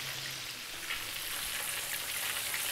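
Fish fillets frying in a pan with garlic and ginger, a steady, bright crackling sizzle that holds evenly throughout, close and continuous with no voices.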